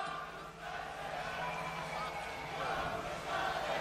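A concert crowd chants a performer's name as a dense, rhythmic roar of many voices at a rock show, steady and fairly loud throughout.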